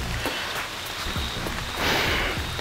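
Rain falls steadily at a pond in Kerala during a fishing outing, a soft, even hiss of drops on water and surfaces with a few scattered nearby taps.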